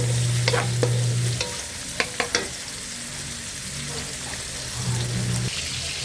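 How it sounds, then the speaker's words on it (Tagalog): Garlic, onion and turmeric sauté in a hot pan for ginataang hipon at tahong. A steady sizzle runs throughout, with a few sharp utensil clicks from stirring near the middle. "Gisa-gisa lang yan. Bawang, sibuyas, saka loyang turmeric."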